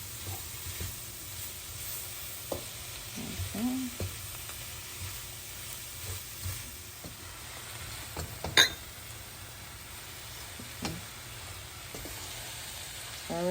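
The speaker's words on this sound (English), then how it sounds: "Stir it up all the way." Chicken, cabbage and other vegetables fry in a pan with apple cider vinegar, giving a soft, constant sizzle with scattered utensil scrapes and taps, quiet and fairly close.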